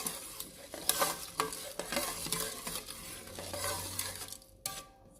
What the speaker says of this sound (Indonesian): Terus kita aduk rata agar semua bumbunya tercampur rata ya